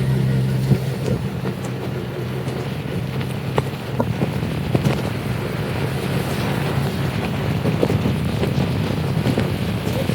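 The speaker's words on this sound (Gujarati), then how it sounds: "પાલનપુરમાં અત્યારે વરસાદ બહુ ચાલુ છે" Heavy monsoon rain pours with gusting wind in Palanpur, a steady, dense roar of rushing, buffeting noise that holds at an even level throughout, with scattered faint knocks and no voices.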